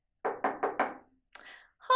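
Four firm knocks on a wooden door in an even, quick rhythm, close and clear, used as a storytelling sound effect, followed by a short pause and a brief bit of other sound.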